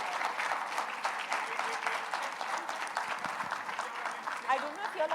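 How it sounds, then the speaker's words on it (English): Sustained audience applause fills the room at a brand ambassador launch event in Mumbai, dense steady clapping throughout with a few faint voices and a brief sharper burst near the end. "Can we have a round of applause, please,"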